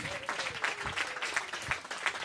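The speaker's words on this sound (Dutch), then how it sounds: "Jongens, jullie mogen weer klappen." Steady applause from an audience, a dense wash of clapping hands that carries on through the whole stretch without a break.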